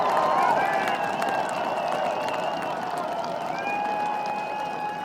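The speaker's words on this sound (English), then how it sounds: "And listen to this crowd." A stadium crowd at a college football FCS playoff game, Eastern Illinois at South Dakota State, applauds and cheers in a dense, steady roar of clapping that continues throughout, with an announcer's voice faintly underneath.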